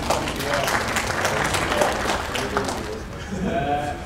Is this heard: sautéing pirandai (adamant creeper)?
no